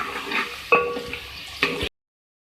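Chopped garlic sizzles with softened onions in a pan: a soft, steady frying hiss broken by two sharp metal clanks of a spoon against the pan, ending abruptly.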